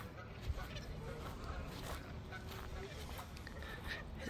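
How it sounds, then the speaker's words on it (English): A goose honks near a pond at Cave Hill Cemetery in Kentucky, a few rough calls over steady outdoor background noise with faint voices nearby. "There's a goose down there."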